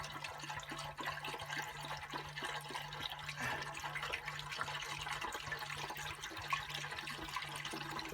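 Old rust remover liquid is poured into a rusty fuel tank, a continuous gurgling, splashing stream of liquid that stays steady and close throughout.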